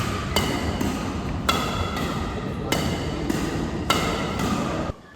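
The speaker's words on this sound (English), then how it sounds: "That composite cork head gives you a proper thunk on every hit" Victor NCS Max composite cork shuttlecock struck with a badminton racket: about seven crisp, sharp hits in a steady rally rhythm over a constant background hiss, close by, no voices.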